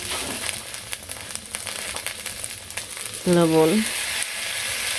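Mixed village greens frying in a pan, a loud steady sizzle crackling throughout, with a short spoken word partway through and a brief tonal sound near the middle.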